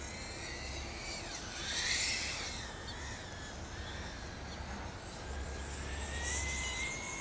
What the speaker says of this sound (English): This is definitely one of the better 1104 motors I've ever flown.